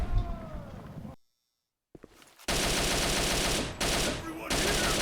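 Type 89 assault rifle firing in the Operation 7 video game, opening with sounds, a brief silent gap, then loud sustained automatic bursts with a short break between them.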